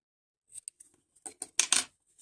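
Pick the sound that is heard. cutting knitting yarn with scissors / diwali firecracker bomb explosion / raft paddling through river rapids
cutting knitting yarn with scissors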